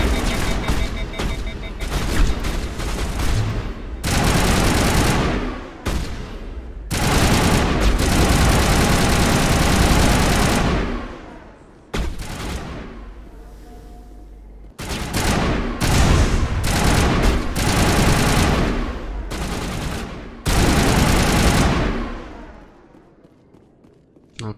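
Heavy video game gunfire from Mass Effect 1 Legendary Edition, loud sustained bursts and volleys of rapid shots in several waves with brief lulls, a low engine-like rumble underneath and occasional voices mixed in.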